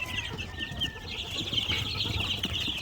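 A pen full of about seventy chicks from a fourth batch, chirping constantly in a dense, overlapping high peep chorus with soft clucks, close and steady throughout.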